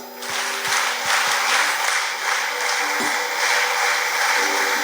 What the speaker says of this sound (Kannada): ಚಪ್ಪಾಳೆ ಸ್ಟಾರ್ಟ್.